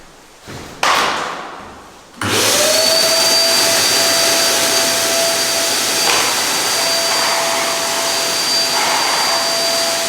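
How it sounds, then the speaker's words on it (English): A vacuum cleaner starts up after a couple of thumps and runs loud and steady with a high whine, close by, cleaning a garage floor before epoxy coating, with no talking. "And now for the most important part, vacuum cleaning."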